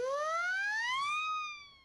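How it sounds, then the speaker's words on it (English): A whistle-like siren sounds alone, its pure tone rising steadily in pitch, then holding briefly before fading out. "So this is the Acme siren."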